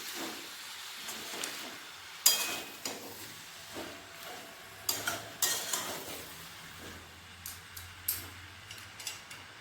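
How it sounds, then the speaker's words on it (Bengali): Washed spinach is stirred into a pan with fish oil, tomato and cumin, giving intermittent clinks and scrapes of a utensil against the pan over a faint, low sizzle. "এরপর দিয়ে দেবো আমি ধুয়ে রাখা পালং শাক। পালং শাকটা আমি একটু মিশিয়ে নেব।"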